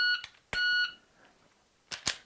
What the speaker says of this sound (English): at the beep